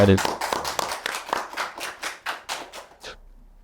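Podcast hosts and guests clap together at the Rumi Cafe, giving about a dozen quick, distinct claps close to the microphone that fade out near the end, with a voice briefly audible at the start.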